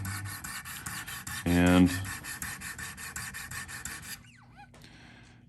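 A Spyderco Shaman knife blade is drawn along 1000 grit Wicked Edge sharpening stones in a steady run of rasping strokes, close and fairly quiet, with one louder, squeakier pass partway through.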